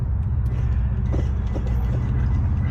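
A car engine runs at a steady idle, a close and constant low rumble with faint clicks on top and no voices.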